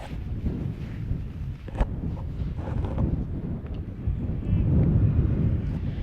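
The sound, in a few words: wind blowing on microphone at outdoor baseball game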